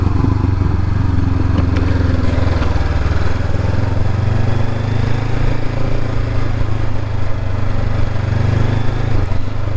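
Honda CB500X motorcycle engine running steadily while riding on a wet road, a loud continuous low drone with a broad rumble throughout and no talk.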